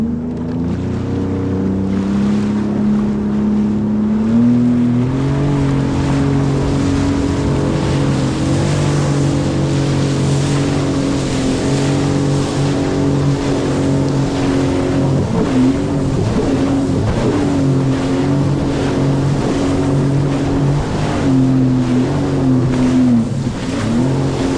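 A Sea-Doo jet ski engine drones steadily and loudly over open water, its pitch shifting slightly as throttle changes, with water rush and wind continuous throughout and no talking.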